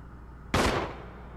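A single loud gunshot rings out in the survival horror game Resident Evil HD remake, a sudden sharp blast inside a mansion that fades out over a fraction of a second, with no talk.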